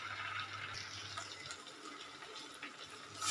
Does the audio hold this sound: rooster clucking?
no